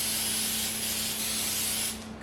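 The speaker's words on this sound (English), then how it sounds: "I'm going to spray it with a little Baker's Joy so that the crust will not stick." Baker's Joy baking spray sprayed into a pan for a homemade peach cobbler: one continuous close hissing burst lasting about two seconds, then cutting off.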